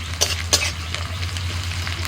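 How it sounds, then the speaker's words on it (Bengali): Onion and green chillies fry in a pan for a Bengali saag dish, giving a steady close sizzle with a couple of sharp utensil clicks as they are stirred. "পেঁয়াজ লঙ্কা ভেজে নিয়ে দিয়ে দিচ্ছি শাক"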